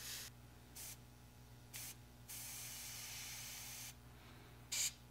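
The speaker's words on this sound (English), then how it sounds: "It's still spraying a bit thicker than I would like" An airbrush sprays thinned paint, cut with Mr. Rapid Thinner, onto a 1/48 Tamiya F-4B Phantom model. It gives short hissing bursts and then one long steady spray, quiet and close, with brief pauses between.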